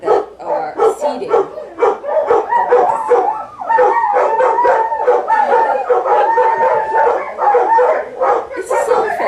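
Several dogs howl and yip loudly in a sustained chorus, joining in with coyotes, the wavering howls overlapping in close succession with short barks mixed in.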